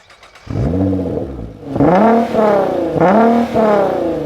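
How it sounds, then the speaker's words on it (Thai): A powerful Nissan GT-R engine in the Racing Master video game revs hard three times in a row, each rev climbing in pitch, loud and close, with no talking. "เดี๋ยวเรามาลองฟังเสียงเครื่องยนต์กันสักหน่อยดีกว่าครับทุกคน"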